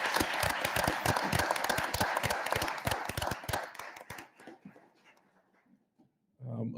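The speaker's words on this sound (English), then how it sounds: "ask everybody to give a round of applause to the employees for the Village of Dolton" A room of people at a Village of Dolton regular board meeting claps for the village employees, a dense burst of hand claps that thins out and fades over several seconds before a voice resumes.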